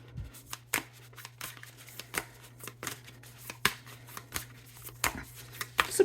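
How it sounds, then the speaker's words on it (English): Tarot cards drawn from a shadow deck make a run of soft, close riffling slaps and flicks in quick irregular bursts over a quiet background hum. "So we'll pull 3 cards"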